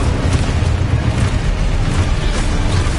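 The Confringo blasting spell explodes in the video game Hogwarts Legacy as a loud, dense, continuous roar of booming blast energy with no gaps, heard up close.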